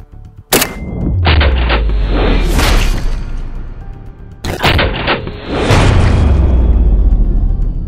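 Two AKM rifle shots fired at an AR-15 target at 25 meters outdoors, each a sharp, loud crack followed by a long echoing boom and rumble, spaced about four seconds apart.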